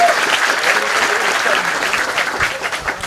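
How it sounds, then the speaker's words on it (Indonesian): A crowd at an Islamic lecture claps in a loud, continuous burst of applause, with a voice faintly present underneath. "sekali lagi tepuk tangan untuk saudara kita dari Akademi"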